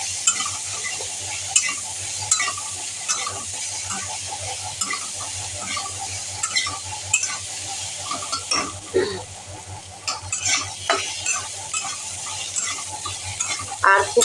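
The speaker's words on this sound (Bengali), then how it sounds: "আর দিয়ে দেবো হালকা একটু হলুদ, দিয়ে এটাকে ভাজবো একটু হালকা।" Choi data greens fry lightly with a little turmeric in a pan, giving a steady close sizzle with scattered stirring scrapes and clinks throughout, no one speaking.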